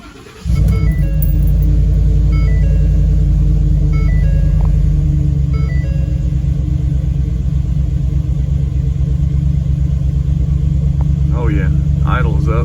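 A car engine with an SCTX4 tuner fitted cranks over and catches, then settles into a loud, steady high idle raised from 600 to 800 rpm, droning on alone close by.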